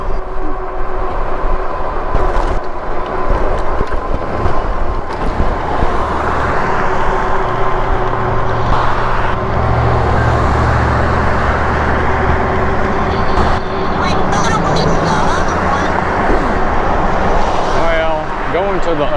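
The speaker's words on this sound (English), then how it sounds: "There's cars coming behind us, so you got it." Cars come up from behind on a road during an e-bike ride, a steady broadband traffic rumble and tire roar that persists under talk, with low engine drone swelling in the middle as vehicles pass close.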